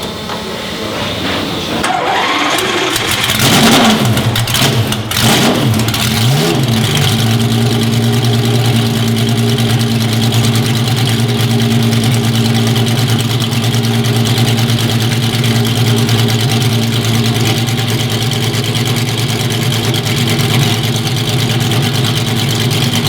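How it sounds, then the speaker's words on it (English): A big naturally aspirated V12 car engine at Spa-Francorchamps cranks and catches with a sharp revving burst, then settles into a loud, steady, throaty idle that continues unbroken. "fire up its naturally aspirated V12 engine, and it sounds absolutely fantastic"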